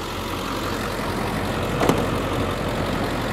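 A 2003 Ford Excursion's 7.3 Power Stroke diesel idles with the hood open, a steady low rumbling drone with a faint brief click partway through.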